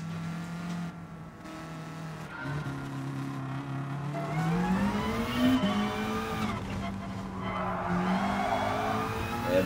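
A race car in Gran Turismo Sport drifts hard off the start, its engine revving and rising in pitch as the tires squeal loudly and continuously under the drift, with a voice talking over it.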